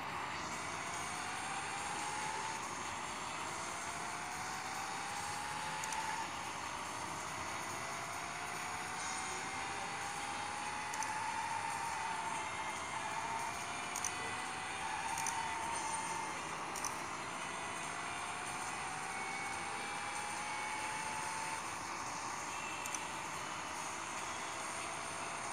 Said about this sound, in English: here I'll show you guys some drifts